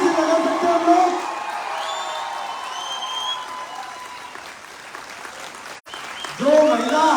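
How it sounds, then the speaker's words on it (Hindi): A lecture-hall audience claps and cheers loudly with whoops and shouts, the sustained applause fading briefly before swelling again as voices rise. "जबरदस्त एक्साइटमेंट से तालियां बजा सकते हैं हम लोग?"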